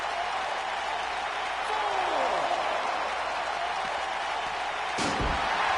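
A wrestler's head slams onto steel ring stairs at a live wrestling event. One loud, sharp impact lands near the end over a steady, noisy crowd roar.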